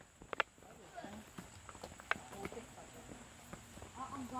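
Faint, irregular hoof clops from horses on a muddy trail to Hulugan Falls, Laguna, Philippines, scattered knocks over a quiet outdoor background with a steady high hiss.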